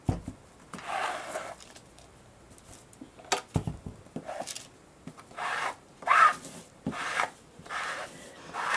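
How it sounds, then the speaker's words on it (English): An old credit card scrapes fabric stiffener across fabric in short, repeated squeegee strokes, soft rasping swipes with brief pauses between them, close and quiet with no speech. "use like a old credit card or gift card, some cardboard, and just squeegee it on"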